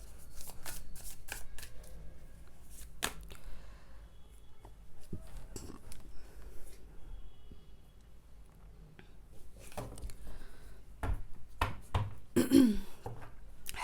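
Tarot cards are shuffled by hand for a reading, producing soft, rapid riffling and tapping bursts in uneven runs, fairly quiet and close, with no talking.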